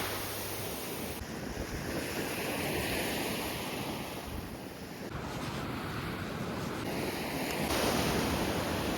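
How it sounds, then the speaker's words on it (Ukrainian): Black Sea waves washing onto a cold winter beach at Chornomorsk in a continuous roar, with wind buffeting the microphone. "щоб послухати шепіт хвиль, прогулятися по пляжу"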